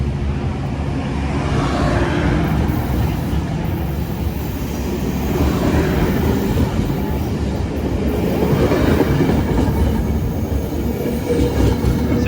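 Metrolink commuter train pulling out of San Clemente at night, a steady rumbling roar of the train and its cars close by, swelling slightly in waves throughout with no one talking.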